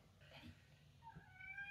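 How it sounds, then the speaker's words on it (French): A pet cat meowing indoors, a short, faint, rising meow that ends the brief quiet moment over a low background hum. "Non, Dali, tu ne miaules pas partout, s'il te plaît."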